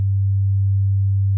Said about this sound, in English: Let's play a sine wave.